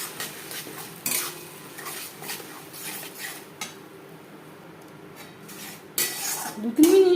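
Spoon scraping and stirring tomato paste in a pan with garlic for a cabbage curry, with repeated clinks and scrapes at close range and a brief sizzle near the end.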